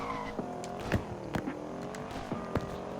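Audi RSQ8 SUV launching hard in a 0 to 60 run with traction control off, engine note rising through the gears in a steady climbing drone with brief sharp peaks, fairly loud and close, no talk.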